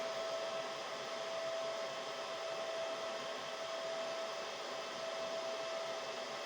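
A retro Compaq rack server runs with a steady, even rush of fan noise and a faint constant tone, unbroken and close, with no voices.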